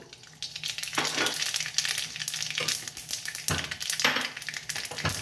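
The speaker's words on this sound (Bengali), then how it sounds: "কড়াইয়ে তেল দিলাম, সর্ষে ফোড়ন দিলাম" Mustard seeds hitting hot oil in a wok, a crackling sizzle that swells in bursts with a couple of sharp surges of spitting and popping, close and loud, nobody speaking.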